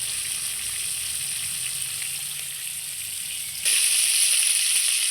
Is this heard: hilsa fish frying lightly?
yes